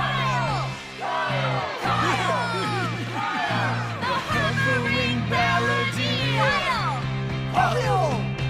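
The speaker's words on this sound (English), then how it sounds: "Everybody cheer!" A crowd cheers with loud whoops, yells and bellowing voices overlapping, sustained and close throughout, with brief dips before the shouting surges again.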